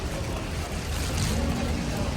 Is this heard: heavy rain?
yes